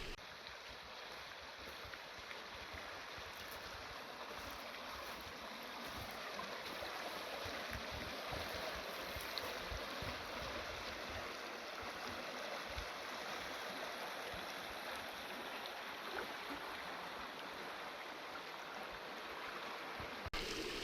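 Soft, continuous rushing of a small mountain stream near Cottonwood Lakes flowing over rocks, faint and steady with no voices.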